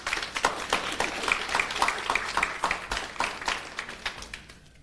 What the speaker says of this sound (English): I want a round of applause for P.S.